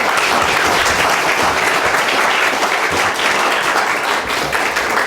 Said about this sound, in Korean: 우리 정현 목사님 나오실 때 크게 박수로 환영해 주시기 바랍니다